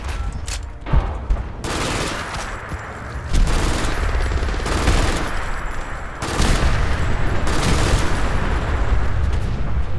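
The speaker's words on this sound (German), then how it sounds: "Explosions!" Dense bursts of gunfire and explosions in the game Fallout London, loud and near, coming in repeated heavy waves with rattling automatic fire between the blasts.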